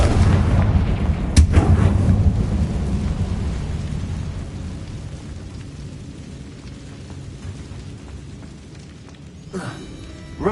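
A Confringo fire blast spell in Hogwarts Legacy erupts with a loud, booming burst near the start, then a long rumbling, crackling tail fades under steady ambient noise, with another sharp impact at the end.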